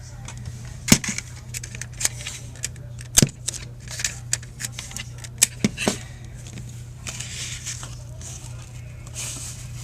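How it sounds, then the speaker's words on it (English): Adhesive tape pulled off a roll and snipped with scissors while assembling a handmade Valentine's card with crinkly ribbon, heard as sharp close clicks and ripping bursts scattered over a steady low hum. "Get some tape."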